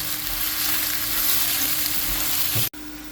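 Tomatoes sizzle and fry in a pan while pork ribs are being prepared, a steady close crackle with no talk that cuts off abruptly just before the end.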